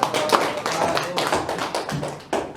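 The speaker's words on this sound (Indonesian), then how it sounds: "tepuk tangan dulu untuk kelompok 1" Applause for a group of presenters in a classroom session, a dense patter of many hands clapping at close range with uneven swells and dips, no talking over it.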